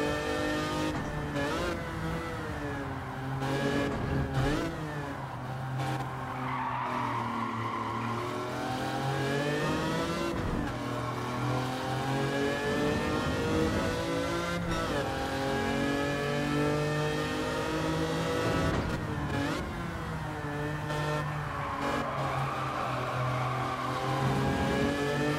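A 1973 Lancia Stratos in a racing video game, its engine revving and climbing through gears steadily and loudly, with occasional tire squeal and no talking.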